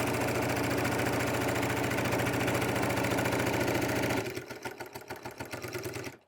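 A sewing machine runs a straight seam on a DIY bag, its needle whirring in a fast, steady, close mechanical chatter for several seconds before slowing into a few separate stitches and stopping.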